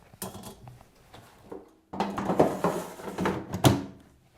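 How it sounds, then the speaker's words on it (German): A baking dish is set onto the roasting plate inside an air fryer, producing close, clattering knocks and scraping thumps in two short bursts with no voice. "Die Ofenform kommt nun wiederum auf die Röstplatte im Airfryer."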